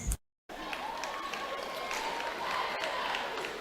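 A crowd applauds and cheers at a high school basketball game, Teutopolis vs Mt. Vernon, as the cheerleaders finish their routine. A steady, noisy wash of clapping follows a brief cutout, with a faint tone running beneath it.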